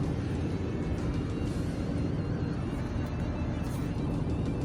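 A Honda car with a VTEC engine drives along at steady speed, a continuous engine and road roar heard from inside the cabin, fairly even in level throughout.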